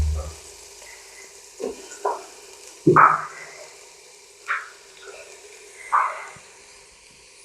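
Whole spices, cinnamon, cardamom and peppercorns, frying with onion and a few garlic pieces in a pan for kabsa, with scattered scraping stirs and brief bursts of sizzle over a quiet background.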